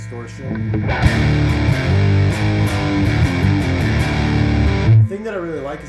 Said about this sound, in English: You can add a little more distortion.